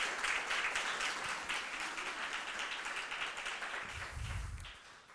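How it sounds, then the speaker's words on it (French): Audience applause for the organisers and students at an information session on study stays abroad, a soft, fairly distant round of clapping that continues evenly for about five seconds. "Je vous propose vraiment un gros applaudissement pour la structure et surtout pour tous les élèves."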